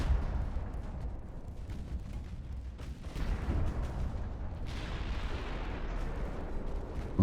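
Naval gunfire from warships in the naval strategy game Ultimate Admiral: Dreadnoughts, with heavy cruisers engaging a battle cruiser: a continuous rumble of low booming salvos, with a sharper blast near the end.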